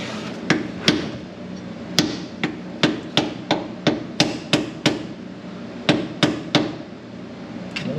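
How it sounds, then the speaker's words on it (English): A hammer pecking lightly at a Dana 44 axle shaft part on a Jeep JK, with about fifteen sharp metallic taps in an uneven rhythm, close and loud, with no voices. "you're going to take the hammer and you're going to peck on it just a little bit"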